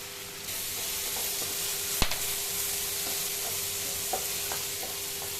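Pirandai (adamant creeper) sautéing in a pan for chutney, a steady close sizzle with occasional stirring scrapes and a sharp clatter near the middle, no voices.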